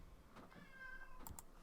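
A neighbour's cat meows through an open door, one drawn-out, moderately clear call rising over faint room noise.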